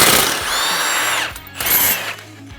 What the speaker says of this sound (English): We're just going to disconnect the bolt.